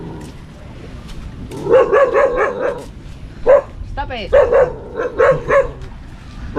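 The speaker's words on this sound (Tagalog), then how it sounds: "May aso, matapang." A fierce dog barks in repeated loud bursts outside a house, with people talking in between the barks.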